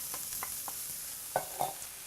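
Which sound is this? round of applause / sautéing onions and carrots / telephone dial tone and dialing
sautéing onions and carrots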